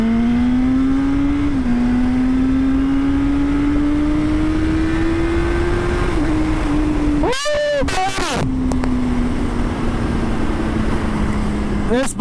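A motorcycle engine holds a steady, loud drone throughout a first ride on the road, with a brief sharp rev burst partway through before it settles back to a constant hum.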